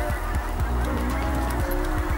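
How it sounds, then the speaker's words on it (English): A flock of geese honking repeatedly overhead, overlapping calls in a steady chorus against a low background rumble. "I've got a few geese coming over here."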